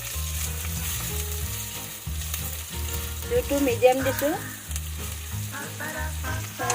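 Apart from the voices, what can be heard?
onions frying until reddish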